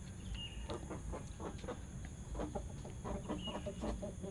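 Elba chickens, a rooster with four hens in a coop, cluck and murmur in short repeated bursts, fairly quiet and close, with no talk over them.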